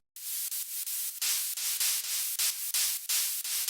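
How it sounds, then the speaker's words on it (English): A bright, hissing white-noise synth lead pulses in short rhythmic bursts, each cut off sharply before the next, with no other sound. "Then we got another white noise type of lead."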